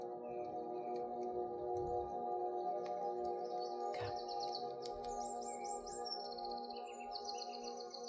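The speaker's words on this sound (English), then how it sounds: "Let the birds call you." Outdoors, several birds call and chirp, with repeated bright trills and tweets scattered over a soft steady background hum, fairly faint and without voices.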